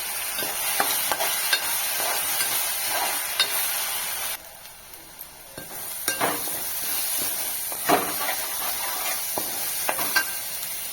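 A ground spice paste sizzles in a pan with onion and tomato for a Satara-style crab curry, steady frying hiss broken by scraping stirs, a brief lull midway, close and fairly quiet with no voices.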